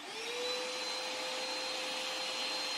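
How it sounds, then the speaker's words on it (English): A Koblenz WD-2L portable 2-gallon wet dry vacuum runs steadily, a loud continuous whine and rush of suction that spins up at the start and holds level, with no voices. "We're going to quick vacuum up a little mess that the cat made over here"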